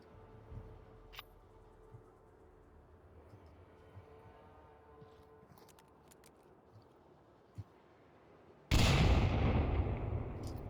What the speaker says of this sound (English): Tricky throws a grenade onto Lord Visceral.